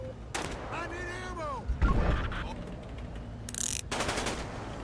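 Gunfire in GTA 5 with a British police mod, several bursts of rapid automatic shots cracking out at the start, again around the middle and near the end, loud and close with other game noise between.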